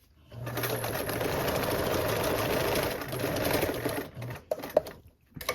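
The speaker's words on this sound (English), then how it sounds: "rotate my panel so I can now sew down the remaining part" A sewing machine stitches a panel in one long continuous run up close, then stops and gives a few short clicks and needle adjustments near the end.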